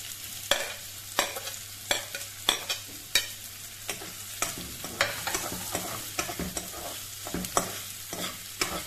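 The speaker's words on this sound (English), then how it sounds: "In a pan, I have heated oil. I will now add onions to this." Onions sauté in a pan of hot oil for Goan batat bhaji, a soft steady sizzle punctuated by regular scraping knocks of stirring, close up with no voices.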